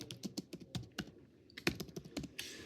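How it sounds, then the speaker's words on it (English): Rapid keystrokes on a computer keyboard while entering items into a custom menu in point-of-sale software, a close, irregular run of clicky taps with brief pauses, no talking. "So to assign an item to this menu button, I would simply start typing."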